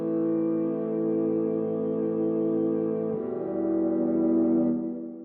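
A dark synthesizer strings layer for a brooding pad: sustained, dense harmonic chord held steadily, shifting to a new voicing midway and swelling slightly before fading, played alone.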